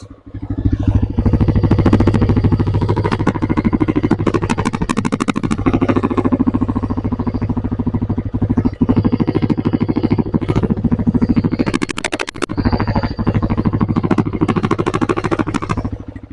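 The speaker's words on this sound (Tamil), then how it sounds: "வண்டியை ஸ்டார்ட் பண்ணி இதோட பீட்டை நோட் பண்ணிடலாமா?" A TVS Raider 125 motorcycle engine runs steadily near the microphone, a dense continuous thump and clatter with a brief rev dip midway, loud and without speech.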